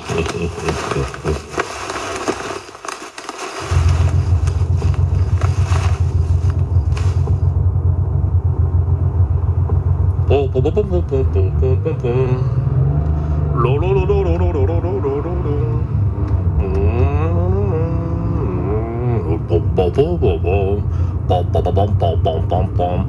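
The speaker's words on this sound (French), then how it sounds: "Sa voiture arrive." A car, a van, arriving in the dark along a roadside: a low engine rumble starts abruptly and holds steady, loud and close, with voices and warbling sound effects layered over the later part.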